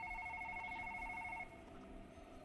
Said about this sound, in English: The telephone ringing.